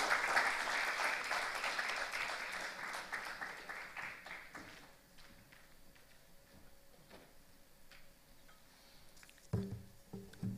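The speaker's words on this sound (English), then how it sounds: "Let's welcome him with a round of applause" Applause from a conference audience at an innovation summit fills the first few seconds fairly loudly, then thins out into scattered faint claps and room noise, with a brief knock near the end.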